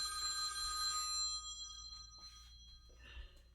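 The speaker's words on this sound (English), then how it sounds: "I'm getting a phone call" A telephone rings with a steady electronic trill for about a second, then stops, leaving faint room noise and a brief higher chirp near the end, with no talking.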